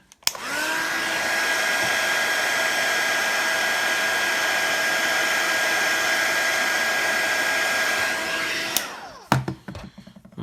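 A heat gun warms adhesive during a Moto Maxx 2 phone screen repair, blowing a loud, steady whooshing whine close by for about eight seconds before it switches off, followed by a few clicks and handling noises.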